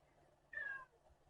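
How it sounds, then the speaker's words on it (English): A Flame Point Siamese cat gives one short, faint meow in the background of a quiet room. "And yes, that's my cat in the background."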